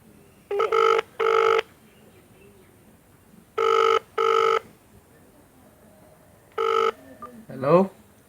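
A telephone rings in paired bursts of electronic tone, three rings separated by quiet pauses, clear and fairly close, followed by a brief chirping sound.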